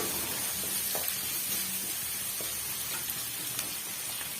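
Steady sizzling and crackling of ridge gourd sautéing in a hot pan, with faint occasional stirring scrapes, close and continuous.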